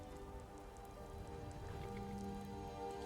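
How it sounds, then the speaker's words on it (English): Steady rain falling in Skyrim, a soft continuous patter of drops under faint tonal game ambience, quiet and even throughout with no talking. "Why is it always raining?"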